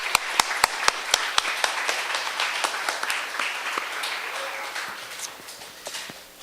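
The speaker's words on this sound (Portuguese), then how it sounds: "vamos dar uma salva de palmas para Jesus, que ele merece" A church congregation in Anápolis claps during an evening service, starting with sharp, spaced individual claps that thin into scattered, fading clapping as the room quiets.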